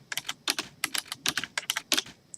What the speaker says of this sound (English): Sorry for the clickety-clacked keyboard.